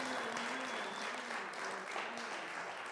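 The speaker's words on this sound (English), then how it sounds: "Somebody clap here." Congregation at a church sermon clapping steadily for several seconds, a dense wash of applause with a faint voice tone running underneath.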